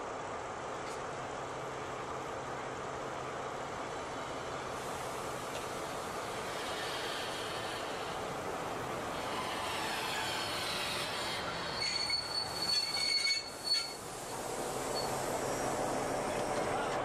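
Steam locomotive 86 1323 rolling into Zinnowitz station on Usedom, a steady rumble of rail cars and wheels with a brief metallic squeal and clatter late on, moderately loud and without talk.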